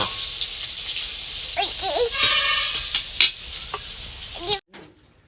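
Eggplant frying in hot oil sizzles steadily under scattered brief vocal sounds, then cuts off abruptly near the end.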